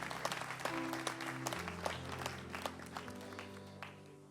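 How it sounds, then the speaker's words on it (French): Congregation applause at a church sermon, a steady mass of clapping hands spread through the room over a low sustained organ or keyboard chord, fairly distant and even throughout. "Vous pouvez applaudir là, si le cœur vous en dit maintenant."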